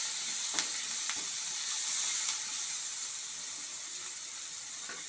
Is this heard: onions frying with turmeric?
yes